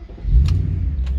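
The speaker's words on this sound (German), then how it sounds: "und jetzt starten wir den Wagen mal" An Audi A6 4.2 V8 Quattro engine cranks and fires up, settling into a steady, loud, deep rumbling idle close by, with no one talking.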